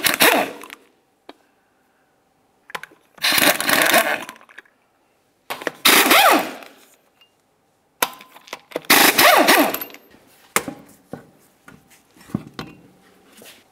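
Lug nuts coming off a 2000-2006 Chevy Tahoe front wheel with a 22mm socket: four loud, close bursts of a power wrench separated by short pauses, then a few sharp clicks and rattles, with no talking.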